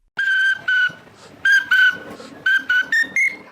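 A whistle is blown in a quick sequence of short, shrill toots, some paired and some single, the last few rising slightly in pitch as if played as a tune, loud and close with nothing else behind it.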